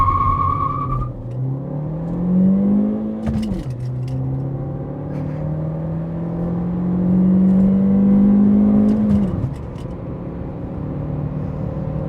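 Chevrolet Spark small hatchback with a 5-speed manual accelerating flat out to 60 mph on a hot, humid day, engine droning loudly and rising in pitch through the gears, with two sharp drops at the quick shifts.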